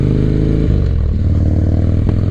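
A 1985 Harley Davidson FXR motorcycle cruises on a warm day, its loud, steady engine rumbling close up with a deep throb, a shift in pitch partway through and faint mechanical clatter, with no talking.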